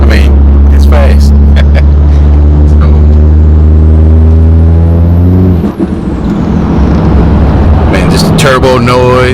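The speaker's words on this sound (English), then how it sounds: "Turbo noise. That's absolutely awesome. It's just chuttering and stuff when it gets in and out of boost." A 2005 Cummins diesel truck drones loudly, and its turbo whistle climbs to a high peak and then falls away as the engine goes in and out of boost, with a rough chuttering afterward.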